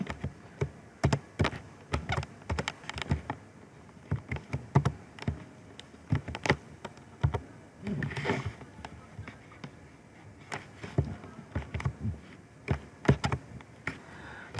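Python code is typed on a computer keyboard close up, with quick irregular bursts of clicky keystrokes, short pauses between them and a few heavier taps.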